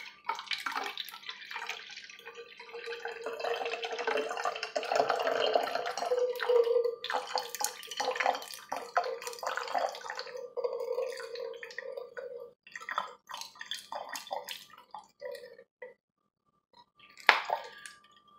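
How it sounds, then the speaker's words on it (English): Close, irregular water splashes and drips patter and slosh, loud in bursts then sparse, with a final sharp splash near the end. "I wonder if it's splashing on the mic though"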